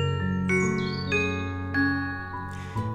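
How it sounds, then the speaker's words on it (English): A school bell chimes a short melodic sequence of bright, ringing tones, each note sustained and overlapping as it fades, signaling the start of the next class. "There's the bell. Time for our next class."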